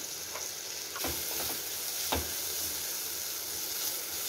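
Ginger garlic paste with spices frying and being stirred in a pan, a steady close sizzle running throughout with a few sharper scraping stir sounds.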